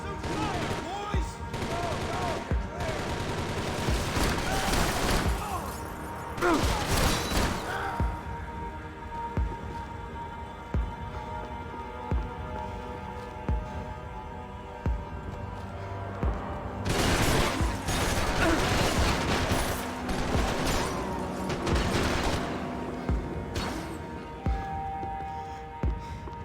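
Sustained bursts of automatic gunfire in Max Payne 3, coming in heavy volleys with quieter gaps between them, while voices shout over the shooting.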